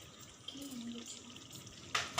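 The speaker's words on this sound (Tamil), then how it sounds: "ஊற வச்ச சோயா சங்கை நல்லா அலசி பிழிஞ்சு எடுத்துட்டு" Tap water runs in a kitchen sink while soaked soya chunks are rinsed for a veg biryani, a soft steady wash with a brief louder splash near the end.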